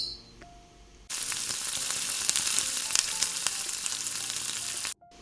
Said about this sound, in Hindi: उसी ऑयल में जो है मैं प्याज डाल दूँगी।